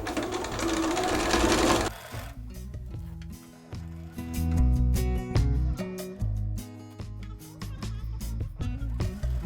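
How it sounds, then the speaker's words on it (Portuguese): A sewing machine stitching a long seam along fabric for a cloth clutch purse, running in a steady mechanical whir with brief pauses and speed changes, fairly close and without talk. "E vou passar uma costura em toda a extensão."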